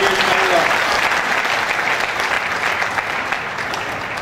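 Thunderous audience applause at a Forever Living Meerut Success Day event, a dense, sustained roar of clapping from a large crowd that holds steady and slowly fades slightly.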